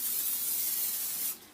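Oil sprayed from a can onto a baking pan: a steady close hiss that runs for over a second, then cuts off.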